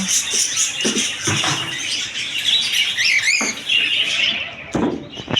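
Many caged birds in a pet bird shop, including lutino red-eye cockatiels, chirp and whistle nonstop in a loud overlapping chorus, with a few soft thumps scattered through it.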